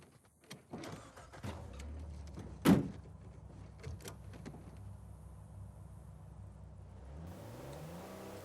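In the video game Uncharted 4, a car starts up with doors clunking and a sharp thud, then the engine idles and climbs into a rising rev as it drives off, close and moderately loud, without speech.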